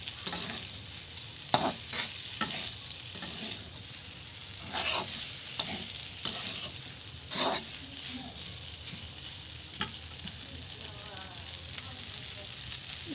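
Pasta frying in a pan with spices, a steady close sizzle broken by scraping, clacking stirs at irregular intervals.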